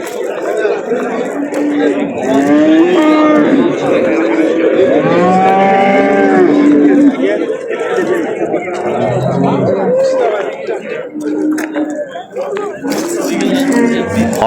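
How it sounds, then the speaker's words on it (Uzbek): Cattle at a busy livestock market moo loudly and repeatedly, several long calls overlapping near and farther off over a constant crowd murmur and people talking. "Mol qo'ylar kelishni boshlagan."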